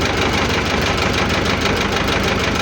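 A Xingtai 244 mini tractor engine idles steadily at about 720 rpm, a loud, close, even diesel chug with a rapid knocking pulse and no speech.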